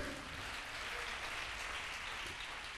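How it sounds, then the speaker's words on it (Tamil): Church congregation claps for the Holy Spirit during a Tamil worship service, a steady, dense patter of applause that sounds somewhat distant and soft, with no talking. "கைத்தட்டி ஆவியானவருக்கு"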